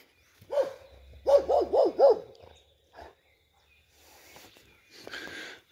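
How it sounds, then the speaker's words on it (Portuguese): A dog guarding horses barks from some distance outdoors: a single bark, then a quick run of four barks, a brief yelp, and fainter barking and noise trailing after. "Aquele cachorro é o protetor dos cavalinhos lá atrás"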